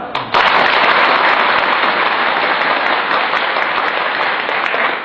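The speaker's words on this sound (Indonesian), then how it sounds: "tepuk tangan" A burst of loud, dense applause starts abruptly and holds steady, a big crowd clapping together without pause.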